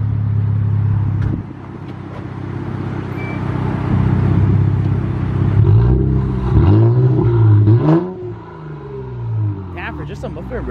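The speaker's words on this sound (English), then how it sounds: "Damn, for just a muffler and resonator delete, bro, that thing sounds good." An Infiniti Q50 with its muffler and resonator deleted idles with a low drone and then revs, its tone rising and falling in several throaty sweeps before settling back, with people talking nearby throughout.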